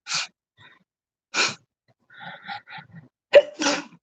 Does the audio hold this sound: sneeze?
yes